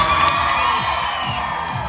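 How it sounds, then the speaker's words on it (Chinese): An audience at an outdoor dance performance in a Paiwan village in Taitung screams and cheers in one steady, loud wash of crowd noise with no pause. "请给我一点很大声的尖叫"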